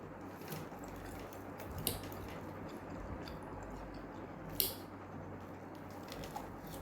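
Someone chews crunchy cassava cake up close, making faint, wet, squishy munching with a few small crisp bites.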